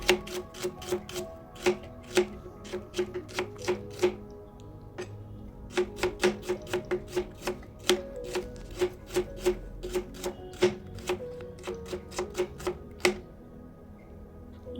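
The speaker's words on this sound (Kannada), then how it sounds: "ಈಗ ನಾನಿಲ್ಲಿ ಒಂದು ಈರುಳ್ಳಿಯನ್ನು ಸಿಪ್ಪೆ ತೆಗೆದು ಇಟ್ಕೊಂಡಿದ್ದೀನಿ ಅದನ್ನು ಕೂಡ ಸಣ್ಣಗೆ ಕಟ್ ಮಾಡ್ಕೊಳ್ತಾ ಇದ್ದೀನಿ" Knife finely chopping a peeled onion on a board while cooking ivy gourd sabji: steady, rapid close-up taps in quick bursts with brief pauses, continuing throughout at moderate volume with no talking.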